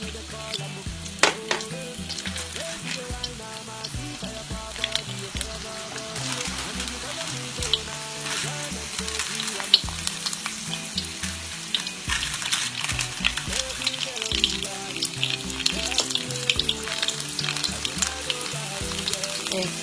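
Samosas crackle and sizzle in hot oil, a loud, continuous fry with sharp pops and occasional stirring or clinks from the pan.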